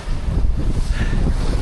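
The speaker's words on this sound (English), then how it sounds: "It's blowing 25 to 30 knots." Strong wind of 25 to 30 knots blows over a sailboat in the Southern Ocean, a loud, steady roaring buffet with gusting microphone rumble and rushing water beneath, and no voices.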